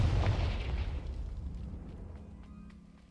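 A deep, booming blast from the Confringo explosion spell in the video game Hogwarts Legacy, loud at the start and then rolling away into a long fading rumble.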